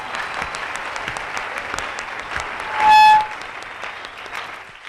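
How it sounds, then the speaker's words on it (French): An audience claps for the prophet in a sustained, fairly close round of applause that stays steady for several seconds. "Acclamez pour le prophète."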